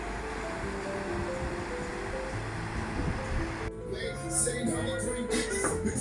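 Sea waves washing onto the shore at Anjuna Beach, a shallow, gently sloping beach in Goa, form a steady, continuous surf wash, fairly close and unbroken, with a brighter hiss of breaking water in the latter part.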